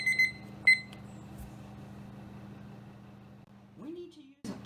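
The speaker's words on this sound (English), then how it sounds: "Listen, our timer's going off." A kitchen timer signals that blueberry muffins are done baking, giving two short, clear beeps near the start over a steady low oven hum, followed by a brief voice at the end.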